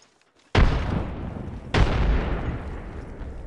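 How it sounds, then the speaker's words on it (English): Two heavy booms from grenade blasts in a battle royale shooter, about a second apart, each a loud broadband burst with a long rumbling decay, near and dominant with no talk over them. "Tossing a grenade."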